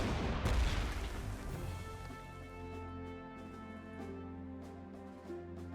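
Artillery fire in the Panzer Corps 2 strategy war game, a loud booming blast near the start that rolls into a long low rumble, with a few lighter thumps and tonal game music trailing underneath.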